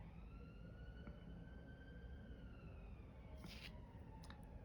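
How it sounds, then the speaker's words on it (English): Faint, distant sirens wail and waver over a steady low rumble of traffic, with a brief higher burst near the end. "the way those sirens are going"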